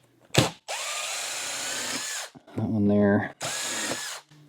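A power drill backs screws out of an RV skylight frame, with several short whirring bursts of the motor separated by pauses, close and loud, and someone briefly speaking between them.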